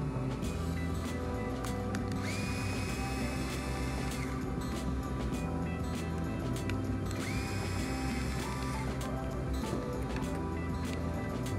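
Small hex tip driver, 2.5 mm, backing screws out of an RC car transmission case, giving a continuous close mechanical whirring and ratcheting with two longer rising motor whines.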